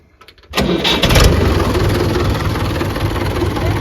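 A few quiet clicks, then a tractor engine cranks and catches, settling into a loud, steady rumbling idle close by.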